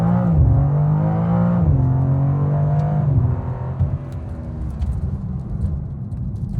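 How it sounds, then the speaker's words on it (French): A BMW M2 inline six-cylinder engine pulls hard after kickdown, its rising drone heard from inside the car, loud and continuous, with the pitch climbing and settling through the run. "une fois que ça lance, on a cette très agréable sonorité du 6 cylindres en ligne"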